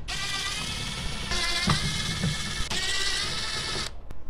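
Screws being backed out of a factory 6x9 door speaker in a Dodge Ram truck, heard as a steady close mechanical ratcheting whir with small clicks, running alone for about four seconds before stopping.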